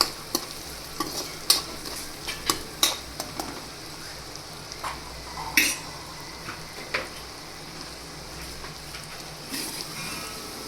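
Carrots frying in oil in a pan for a Gujarati cabbage-carrot sambharo, a steady soft sizzle broken by sharp clicks and scrapes of stirring, close and fairly quiet.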